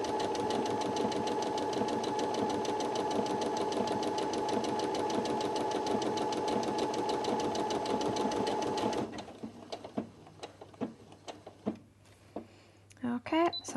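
Brother sewing machine stitching a buttonhole with a binding buttonhole foot, a fast steady mechanical stitching rhythm running loud for several seconds, then stopping into quiet clicks and handling noises.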